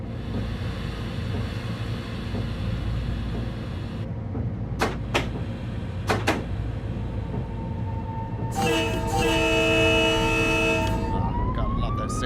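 A GE AC4400 locomotive horn in Train Sim World 2 on the Harlem Line blares as a loud sustained chord for several seconds near the end, after a steady engine rumble broken by a few sharp clicks.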